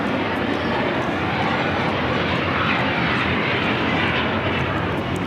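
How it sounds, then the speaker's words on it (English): A United Boeing 787 Dreamliner rolls down runway 25 right at LAX, giving off a dense, steady jet roar that fills the whole moment with no break. "You have a United Dreamliner now rolling on 25 rights."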